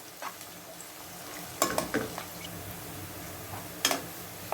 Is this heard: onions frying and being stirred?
yes